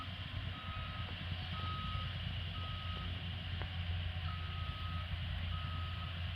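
Construction trucks at work on a level crossing upgrade in Christchurch give off a regular reversing beep, repeating evenly over a steady low engine rumble from a moderate distance.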